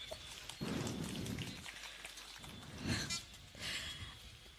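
Rain patters and splashes onto surfaces at an outdoor political rally, a dense steady hiss with a few louder bursts of drops.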